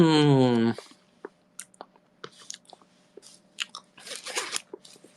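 Someone eats banana pudding, soft close-up smacking and chewing clicks scattered irregularly after a brief voiced hum at the start.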